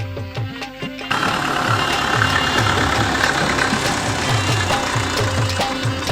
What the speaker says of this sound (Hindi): ट्रैक्टर वञे ट्रैक्टर हले थो